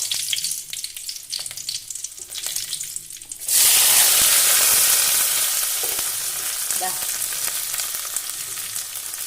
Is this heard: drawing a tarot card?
no